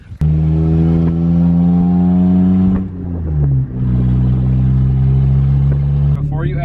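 A beater car's engine idles steadily, then revs and pulls away, holding a loud, close drone that dips briefly before settling into a steady run.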